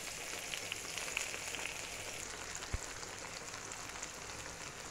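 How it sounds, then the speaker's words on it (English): Frankfurter sausage frying in a pot for a one-pot pasta meal, a continuous hissing, crackling sizzle at an even level with one brief soft knock. "So I'm gonna let it fry a little and then I'll be turning it on the other side"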